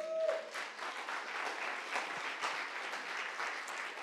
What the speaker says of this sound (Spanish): ¿No le va a dar un aplauso al Señor?